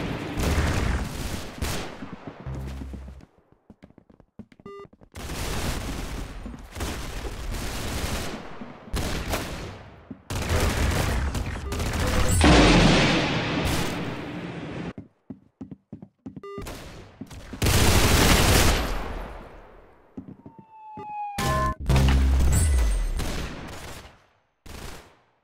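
Gunfire from the Roblox shooter Arsenal: repeated bursts of rapid shots and headshot hits, loud and close, arriving in clusters separated by short gaps.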